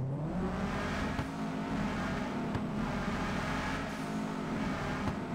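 A Subaru's stock exhaust note in GTA 5, a steady loud engine drone with gentle revving swells held throughout, no talking.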